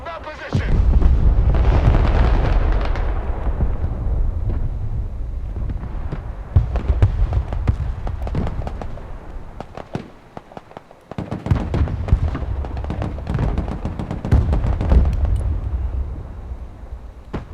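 Artillery barrages and explosions in the war game Broken Arrow, with heavy rumbling booms and dense crackling blasts rolling on continuously, fading briefly before another loud wave hits.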